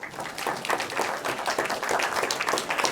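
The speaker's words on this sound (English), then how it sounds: "let's give him a round of applause." An audience breaks into applause, a brief dense burst of many hands clapping that holds steady at moderate loudness for a few seconds.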